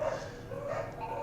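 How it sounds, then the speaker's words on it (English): Hound dogs bark and bay in the background, a few moderately loud, drawn-out howling calls over a low room hum. "Also, sorry if you hear dogs in the background."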